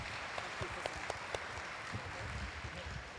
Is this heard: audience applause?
yes